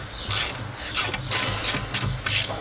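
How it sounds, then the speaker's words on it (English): A ratchet wrench with a socket tightening on farm equipment, several bursts of rapid metallic clicking separated by short pauses, close and fairly loud. "And then you tighten it up if you had a socket on your wrench."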